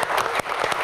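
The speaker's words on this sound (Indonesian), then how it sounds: "tepuk tangan" Applause from a studio audience on an Indonesian Q&A talk show, a dense burst of many hands clapping loudly and close, with no talk over it.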